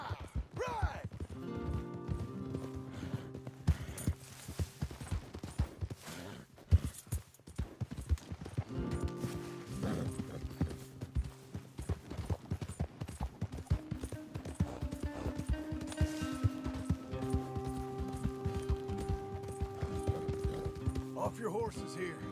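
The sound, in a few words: horses' hooves clip-clopping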